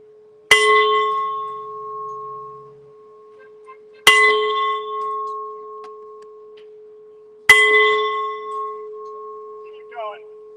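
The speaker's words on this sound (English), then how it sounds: "If you want to add a toll, if you want to ring the bell, come and get in line." A bell tolled by hand at an outdoor rally against the death penalty, three loud ringing strikes a few seconds apart, each hanging on with a long sustained hum before the next toll, faint voices in between.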